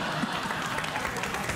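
A late-night talk show studio audience applauds, a dense, fairly soft wash of clapping with a faint crowd murmur and no clear talk.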